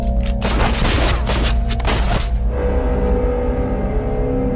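Gunfire in a film scene: a rapid volley of loud, close shots crackling over about two seconds, followed by a lingering low rumble and hum.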